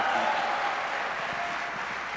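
A crypto conference audience breaks into sustained applause, a dense wash of clapping from a large crowd that holds steady and slowly fades, with no voices rising above it.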